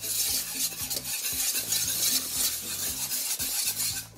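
Pastry cream boiling in a pan while stirred steadily with a utensil, close rhythmic scraping and swishing over a continuous bubbling sizzle, no voices.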